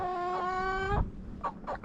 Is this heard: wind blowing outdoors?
no